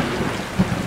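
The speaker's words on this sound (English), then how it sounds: "It's raining" Rain falls steadily in the video game Stray, a dense wash of patter with a low rumble of thunder underneath, fairly loud and with no voices.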